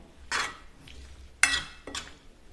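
Chayote stir-fry being stirred in a pan, heard as three or four short, crisp scraping and sizzling strokes spread over a couple of seconds, close and alone.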